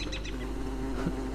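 Bees buzzing in the survival video game Don't Starve, a steady droning hum that holds on without pause, fairly loud and close, with no talking over it.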